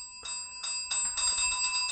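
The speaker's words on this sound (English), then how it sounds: "Would you like to ring the bell one final time?" A small desk or bicycle-style bell is struck several times in quick succession, bright metallic rings each leaving a sustained shimmering tone, close and alone with no talking.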